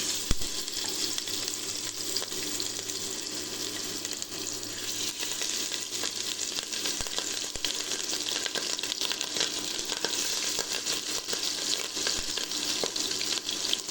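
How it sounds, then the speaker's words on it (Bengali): Steady, dense sizzling of mrigal fish frying in hot mustard oil, a continuous crackling hiss that holds even for the whole stretch with no talk. "এবার মাছগুলো আমি ভেজে নিব"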